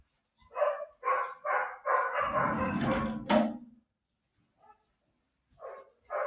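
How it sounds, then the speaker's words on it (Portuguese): Several dogs bark in quick bursts, loud and close, with a short stretch of louder overlapping barking, then a pause before two more barks. "perdoe os meus cachorros"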